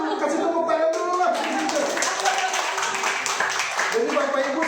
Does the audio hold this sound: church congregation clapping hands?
yes